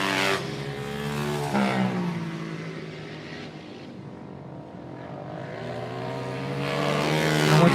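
Honda CRF motorcycles race past on a track, engines swelling loud, fading into a distant drone, then building again as another bike approaches near the end.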